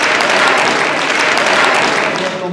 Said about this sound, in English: Welcome with a lot of applause.